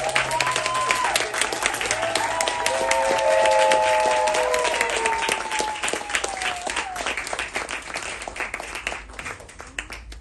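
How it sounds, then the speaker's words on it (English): Applause from an audience at an evening book launch event, rising as speakers are welcomed onto the stage, steady clapping that swells mid-clip then slowly thins out. "please join me in welcoming to the stage Molly and Atash"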